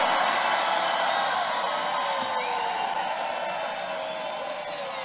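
Large outdoor political rally crowd in Tampa, Florida, applauding and cheering in a steady, dense roar that fills the whole stretch and fades slightly toward the end.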